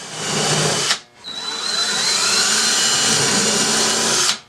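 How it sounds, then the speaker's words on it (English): Cordless drill spinning a countersink bit into cabinet wood while pre-drilling screw holes during a workshop cabinet install, a loud close whirring burst that briefly stops then runs again in one long steady pass. "Then I pre-drilled holes with a countersink bit."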